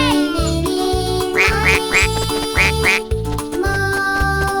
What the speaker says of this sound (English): If she quacks, then let her go.